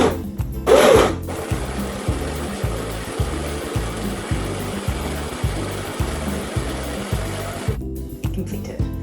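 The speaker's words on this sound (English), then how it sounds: "I'm going to grind up this 52 grams" A coffee grinder works through 52 grams of coffee with a steady close motor whir and a fast, even pulsing rhythm that runs for about eight seconds before stopping.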